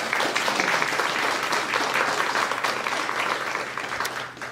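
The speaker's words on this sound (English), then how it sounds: "So let's give her a round of applause." Audience applause at a Guide Dogs for the Blind graduation ceremony, a steady dense clapping from a crowd that carries on throughout and fades slightly at the end.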